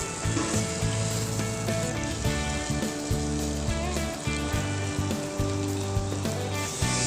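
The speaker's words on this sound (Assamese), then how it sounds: "এতিয়া মই ইয়াতে দিম বইল কৰি ৰখা আলু। এইখিনিও ধুনীয়াকৈ মই ভাজি ল'ম।" Boiled potatoes fry with masala in a pan, giving a continuous, close sizzle under steady background music.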